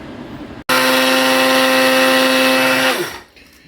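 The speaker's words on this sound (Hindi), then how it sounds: "ये अब हम इस तरह से पीसते जाएंगे" An electric grinder pulverizes roasted spices for homemade chaat masala with a loud, steady whining roar that starts abruptly, holds for about two seconds, then spins down as the motor is switched off.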